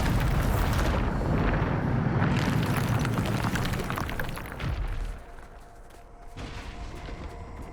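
Bombarda spell explosion in the Hogwarts Legacy video game, a loud, sustained rumbling blast that fades after about five seconds into a quieter low roar.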